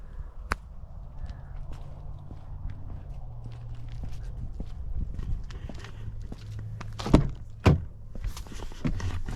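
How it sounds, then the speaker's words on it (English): On a 2023 Chevrolet Silverado LTZ, shuffling footsteps move about before the hood comes down with a solid, close thunk and a second heavier thump. "let's drop the hood"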